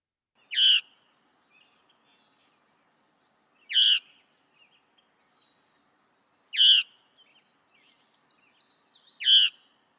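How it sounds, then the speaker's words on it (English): Veery giving its distinctive nasal single "cheer" call note; four clear, evenly spaced calls about three seconds apart, crisp against a silent background. "Veeries also have a very distinctive call note."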